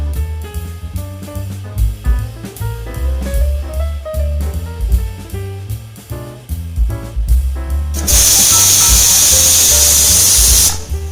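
A pressure cooker holding tapioca with salt, turmeric and a little water, cooked Kerala style, lets out a loud, steady steam hiss with a whistling edge lasting about three seconds, after a stretch of background music.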